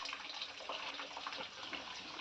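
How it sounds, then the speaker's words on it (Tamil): Tamarind water is poured into sautéed fish curry masala for a stingray curry, giving a steady, close splashing and trickling of liquid that runs evenly with no talk over it. "பெரிய நெல்லிக்காய் சைஸ் அளவு இருக்கக்கூடிய புளியை கரைச்சி சேர்த்துக்கணும்"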